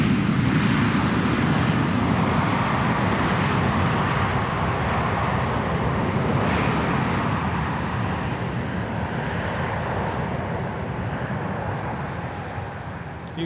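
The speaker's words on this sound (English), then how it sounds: "we got a Beechcraft, a Marvin Windows Beechcraft" A Marvin Windows Beechcraft airplane moves along a taxiway at Minneapolis–St. Paul airport, its engine a steady, loud broadband roar that holds constant for the whole stretch, slowly easing slightly toward the end, with no talk.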